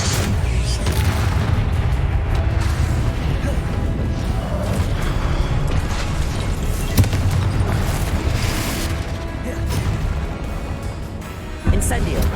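Confringo fire spell explosions in Hogwarts Legacy, heavy booming blasts and crashing impacts filling a dense game soundscape, with someone speaking over them throughout.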